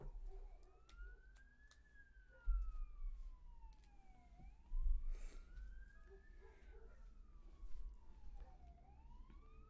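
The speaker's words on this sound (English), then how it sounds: "Good grief, I hear sirens going on." A distant siren wails in long rising and falling sweeps, steady and fairly faint, over a low background rumble with a few soft thumps.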